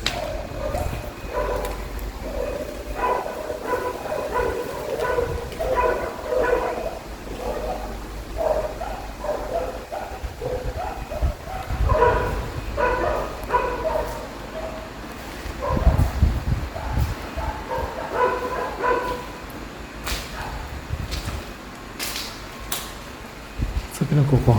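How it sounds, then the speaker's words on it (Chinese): Several dogs barking angrily inside a building during a ghost-hunting visit, bursts of repeated barks that come and go over a hum of fan or air conditioning, moderately near, with speech at times. "这边的狗狗好生气吧？"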